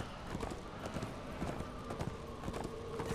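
Horse hooves galloping in the Darksiders 2 video game, a steady rapid clip-clop rhythm running throughout over dense game background noise.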